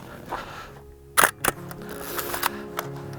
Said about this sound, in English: It's the nicest sounding shutter, I think, of any of the film cameras that I have.